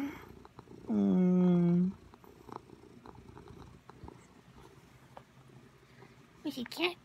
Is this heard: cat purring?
yes